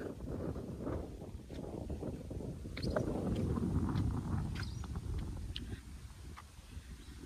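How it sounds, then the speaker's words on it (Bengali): Steady outdoor wind roars and buffets the microphone throughout at a village home, with low rumbling gusts swelling in the middle and a few faint knocks in the background. "অনেক বাতাস আজকে।"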